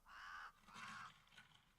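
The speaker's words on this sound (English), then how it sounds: "Oh, that noise is birds." Two loud crow caws followed by a fainter third, from birds in the video game Kenshi, heard on their own with no talk.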